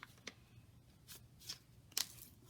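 Book pages being folded for a holiday votive holder give quiet papery rustles and crisp flicks, several brief soft bursts spaced irregularly at close range with no talking.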